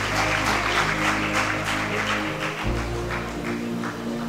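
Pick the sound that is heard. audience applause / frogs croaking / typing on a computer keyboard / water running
audience applause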